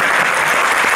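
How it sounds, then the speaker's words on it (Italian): A dense burst of applause from a crowd, loud and steady throughout with no voices standing out. "io voglio fare, se me lo permettete, un applauso per Ezzio Greggio"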